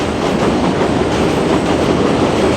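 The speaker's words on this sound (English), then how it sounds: "it's noisy because the 7 train line with this" Loud, continuous rumble and clatter of an elevated 7 line subway train in Queens, New York, passing close by, steady throughout with no voices.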